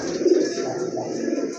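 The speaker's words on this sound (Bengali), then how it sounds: "অ্যালমন্ড কালার ইয়েলো অ্যালমন্ডের ভিতরে একজোড়া শর্ট ফেস কবুতর" A pair of yellow almond short face pigeons coo softly and close by, with low rolling calls rising and falling over a quiet background.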